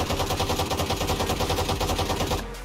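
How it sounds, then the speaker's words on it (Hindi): The Frenzy auto pistol in the video game Valorant fires a rapid, continuous automatic burst of sharp gunshots at an even rhythm, loud and close, stopping abruptly near the end. "अगली गन आती है फ्रेंजी भाई, ऑटो पिस्टल है"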